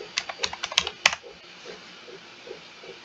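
Rapid keystrokes on a computer keyboard as a search term is typed into a search bar for 3D printing designs, a quick close burst of clicks followed by a quieter pause with a few faint taps.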